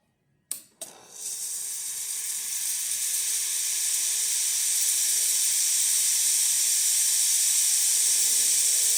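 An espresso machine's steam wand, freshly serviced, opens with a brief sputter and then settles into a loud, steady, broadband hiss that holds without break.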